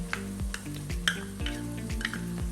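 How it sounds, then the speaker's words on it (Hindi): Grated ginger and garlic fry with half-fried onion and green chilli in a pot, giving soft sizzling with repeated clinks and scrapes of a spoon stirring against the metal, close and fairly quiet. "जब तक अदरक और लहसुन से कच्चा फ्लेवर नहीं चला जाता है, तब तक हमें फ्राई करना है 3 से 4 मिनट।"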